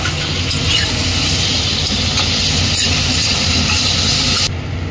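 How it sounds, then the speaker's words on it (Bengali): Cut vegetables fry in a hot pan in a home kitchen, giving a loud, steady, close sizzle and hiss that carries on evenly, then drops off abruptly at the end, with no talk. "সবজিগুলোকে এবার ভাজা ভাজা করবো।"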